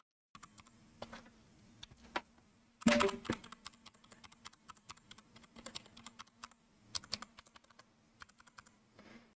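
Bottom-row keys on a Redragon mechanical keyboard are typed in irregular bursts of close, crisp clicks and clacks, with one louder cluster of strikes partway through.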